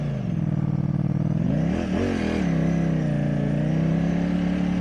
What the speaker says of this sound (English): Oh man, that sound is just a beautiful Ducati sound.